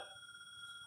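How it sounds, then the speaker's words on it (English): A telephone rings briefly with a bright, steady electronic tone, clear and moderately loud against a quiet background, with no voices. "That's a phone ring."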